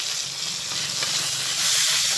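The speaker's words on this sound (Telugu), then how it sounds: "కొద్దిసేపు మీడియం ఫ్లేమ్లోనే ఫ్రై చేసుకోవాలి" Mint leaves and green chillies sizzle steadily in a hot pan over a medium flame while a tomato-mint chutney is prepared, a continuous close, bright frying hiss with no talk.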